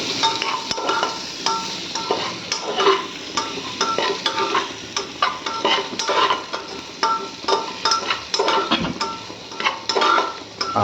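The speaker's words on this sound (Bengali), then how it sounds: "নাড়িয়ে দেবো।" A spoon stirs dalia with chopped ginger and ghee in a pot, scraping and clinking steadily with a light sizzle underneath, close and alone with no talk.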